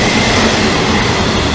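Loud, continuous rumble of a train passing close to an apartment in Japan, a dense steady roar of rolling wheels and cars filling the whole moment without any voices.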